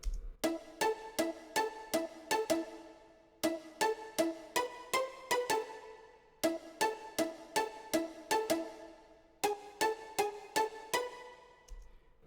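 A short-string pizzicato preset called Artificial Pizza from the HALion sampler plays a hip hop melody in repeated plucked phrases with brief pauses between them, clean and upfront, with no voices.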